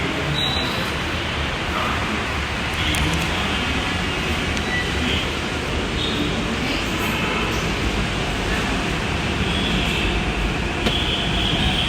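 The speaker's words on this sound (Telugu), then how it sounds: "ట్రైన్ సౌండ్ అయితే వినిపిస్తుంది" A continuous low rumble of a metro train running on rails, steady and loud for several seconds with faint rattles and squeaks.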